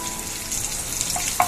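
Green chillies and cumin fry in hot oil with a steady, close hiss and crackle, with a couple of brighter pops near the end, no voices.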